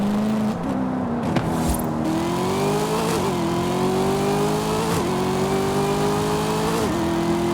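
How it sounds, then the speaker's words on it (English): Supercharged 2019 Corvette ZR1 in Forza Horizon 5, a loud steady engine and exhaust drone that rises in pitch through several revving pulls, close and continuous with no talk. "The exhaust sounds nice too."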